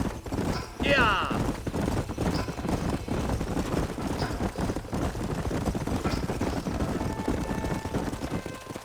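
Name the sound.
horses trotting in video game Red Dead Redemption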